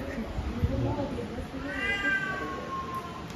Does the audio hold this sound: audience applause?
no